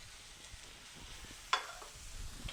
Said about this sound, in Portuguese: Enquanto o nosso filé vai grelhando